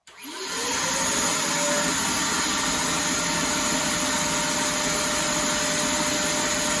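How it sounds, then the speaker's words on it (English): Small vacuum with a straw taped to its hose switches on and runs steadily, a loud close whine and rush of suction used to clean debris from a Ford Mod Motor engine cylinder. "we're going to try basically taping a straw to a vacuum hose and seeing if we can get at least most of it out"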